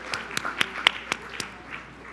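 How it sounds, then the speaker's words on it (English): A small, sparse round of applause from an audience at a community foundation forum, a few separate claps spaced out over about two seconds, fairly quiet and close, with no talking. "I think a round of applause is a great idea"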